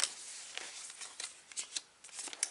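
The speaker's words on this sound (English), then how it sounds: "The cards here. I'm gonna shuffle." Tarot cards being shuffled by hand during a card reading, a quiet rapid riffle of soft flicking and rustling bursts, close and alone.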